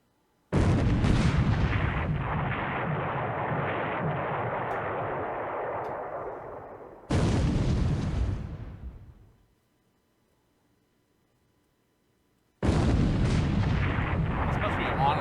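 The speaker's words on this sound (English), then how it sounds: "Was that a 28-centimeter gun?" Heavy 28-centimeter naval guns fire in a video game naval battle: three loud, booming blasts, the first with a long rumbling tail lasting several seconds, a second shorter roar, then a gap of quiet before another sustained blast.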